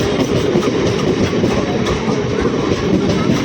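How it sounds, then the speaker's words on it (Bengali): A train pulls into a station close by, a loud steady rumble with rhythmic clickety-clack of wheels on the rails, no voices. "ট্রেনটা ঢুকছে দেখো কীভাবে"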